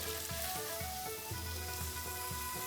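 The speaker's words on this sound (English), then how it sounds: "I'm going to bring this up to heat, and I'm going to fry the minced pork first." Minced pork sizzles steadily in a hot pan, a continuous close frying hiss with faint pops and scraping, no talking.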